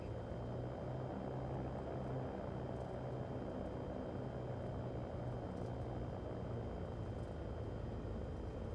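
A Cirrus SR20 piston engine in X-Plane 11 drones steadily and evenly, a constant propeller hum that stays level and unchanging with no talking.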